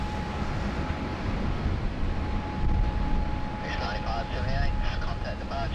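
A plane landing on runway 16 left at Sydney Airport in heavy rain and wind, a steady broad roar of engine and weather noise throughout, with a voice talking over it and a whining tone rising near the end.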